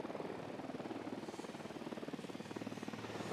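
Helicopter from the video game Ghost Recon Wildlands, a steady rotor drone with rhythmic blade chop that holds fairly constant and moderately loud throughout, no talk over it.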